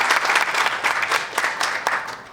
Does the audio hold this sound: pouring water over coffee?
no